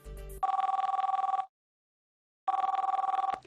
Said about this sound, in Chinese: 今天我们就来现场电话连线吴女士，来听听她遇到了什么事儿